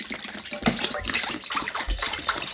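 White kimchi broth poured into a container of white kimchi, a steady liquid splashing and gushing that runs continuously and close, with no talking.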